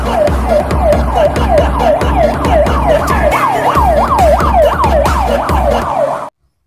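A loud ambulance siren wails in fast repeating up-and-down sweeps for several seconds, close and continuous, then stops abruptly.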